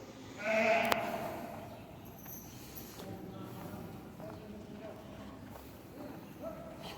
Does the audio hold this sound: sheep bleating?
yes